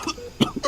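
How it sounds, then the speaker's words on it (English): A character coughs in a fantasy role-play session, heard as a short burst of close, rough coughs and throat sounds lasting under a second, with no words spoken. "He continues coughing."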